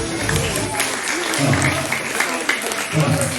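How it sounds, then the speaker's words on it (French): A classroom audience at a school quiz match claps for a team, a crowd of hands rattling at moderate loudness, with a voice talking over part of it and some low murmuring. "Bravo, on peut applaudir les aisés."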